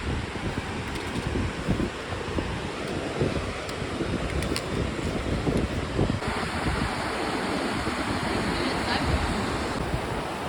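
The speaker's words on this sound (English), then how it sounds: "Just down from the waterfall." Steady rushing water from a waterfall along the Appalachian Trail, a dense continuous roar that holds close and even throughout with a little wind buffeting.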